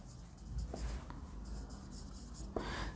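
Chalk or marker scratches across a classroom board in a quiet room, faint continuous rubbing broken by a few sharp taps and a louder stroke near the end.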